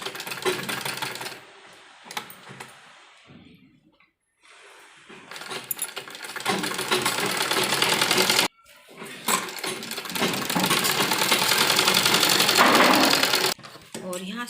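A sewing machine stitches a child's umbrella frock in several loud, steady runs, broken by short quiet pauses between seams.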